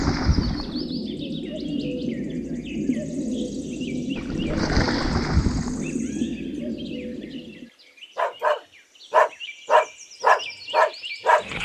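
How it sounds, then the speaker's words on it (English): A dog barks in a quick series of sharp, separate woofs, heard alone and fairly loud after a long stretch of dense, rustling animal noise with bird-like calls. "Dog."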